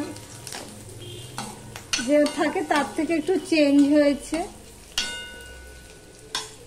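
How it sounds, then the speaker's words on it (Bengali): Onion frying in a pan, a steady sizzle with stirring and utensil scrapes, running beneath a voice speaking close by through much of it. "পেঁয়াজটা একটু আমি ভেজে নেব"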